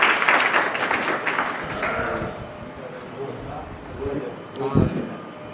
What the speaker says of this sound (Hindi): आइए भिखा भाई का जोरदार तालियों से स्वागत करते हैं।